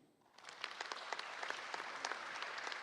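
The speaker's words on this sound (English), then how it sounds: "I will ask you again to give him a round of applause" After a conference talk at a science week event, an audience breaks into applause that starts suddenly and continues as a steady, moderately loud patter of many hands.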